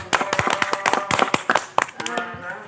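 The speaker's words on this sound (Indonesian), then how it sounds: "kita berikan aplaus" Classmates clap in applause in a classroom, several pairs of hands beating in a quick, uneven burst of loud claps that thin out and fade toward the end, with no talk in the clip.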